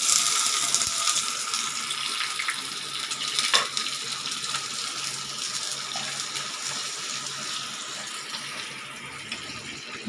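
Almonds, soaked and cut lengthwise, lightly frying in a pan for a sweet lentil payasam, giving a soft, steady sizzle and crackle that runs throughout with no talking.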